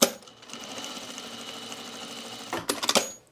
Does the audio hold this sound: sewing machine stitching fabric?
yes